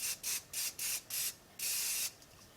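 Hair product sprayed from a pump spray bottle: five quick hissing bursts in fairly even rhythm, then one longer sustained spray, close and clear with no talking.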